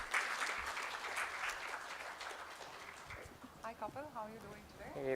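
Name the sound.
audience giving a warm round of applause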